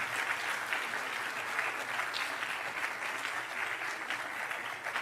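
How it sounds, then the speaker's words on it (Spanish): A church congregation claps together in steady, dense applause that holds at an even level throughout, with no voices standing out over it. "¿Por qué no le da un aplauso al Señor?"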